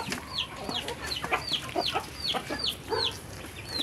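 Chickens cluck in a steady stream of short repeated calls, near and fairly loud, as a flock of young chicks and four hens, newly arrived from Guihulngan, settle in without water yet.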